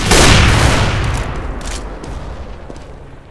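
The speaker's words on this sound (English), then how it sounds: "Grenade out." A loud burst of grenade explosion and gunfire from the game Counter-Strike in a 5-man team match, opening with a heavy blast that slowly decays over crackling shots.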